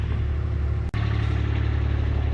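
Hydraulic jacks raise an RV fifth wheel, a steady, close motor drone with a low hum, broken once by a split-second dropout before it carries on unchanged.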